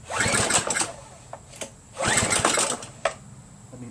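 Small Craftsman pressure washer engine idling off choke at low throttle, a rough, uneven putter that surges in two bursts and then drops to sputtering, faltering beats, close and fairly quiet.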